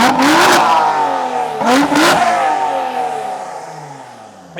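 A Lotus Exige Sport 350's 3.5-litre V6 revs loudly up close in two sharp blips, each rising quickly and falling away, followed by a steady idle.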